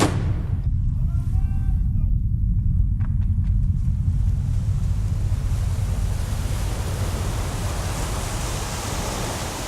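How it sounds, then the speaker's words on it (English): Sea surf rolling in a steady broad roar, loud and close with wind buffeting the microphone, briefly joined early on by faint tonal sounds, then fading slightly toward the end. "The sea."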